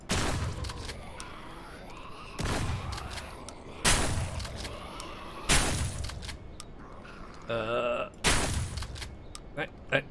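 Gunfire in the zombie survival game HumanitZ: several loud, booming shots fire in irregular bursts over a dense, rumbling game soundscape, with a brief electronic tone between them.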